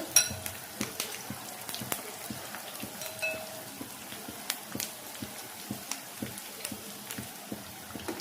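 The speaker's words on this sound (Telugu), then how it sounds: "చూడండి బాగా ఫ్రై అవుతున్నాయి ఇవి" Eggs for Egg 65 fry in hot oil, giving a quiet, steady crackle dotted with irregular sharp pops and spits, with no talking.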